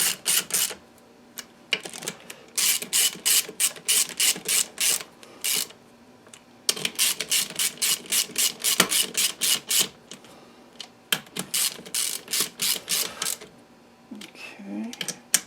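Bolts being snugged down on the bottom end of a Kawasaki 750 two-stroke triple, heard as quick bursts of ratchet clicks in repeated runs with short pauses between, close and fairly loud.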